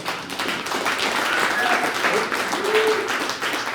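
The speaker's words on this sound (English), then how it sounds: "Give yourselves a round of applause." A comedy show audience in a bar claps together in a dense, steady burst of applause that fills the room without pause for a few seconds.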